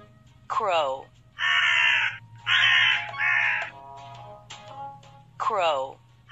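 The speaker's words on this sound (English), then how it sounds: "Crow." A crow caws from a children's animal puzzle: two loud, harsh caws near the start and end, separated by bursts of bright, hissy sound.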